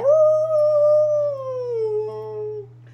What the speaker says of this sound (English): as you guys are walking through, you hear howling